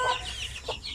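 A young Shamo Aseel hen gives a couple of short, close clucks, soft and brief.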